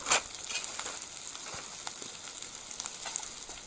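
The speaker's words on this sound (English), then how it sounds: "I'm just frying mine" Smoked kahawai fried rice frying in a pan at a camp cooking setup, a steady soft sizzle with scattered light crackles and pops, close but fairly quiet, with no talking.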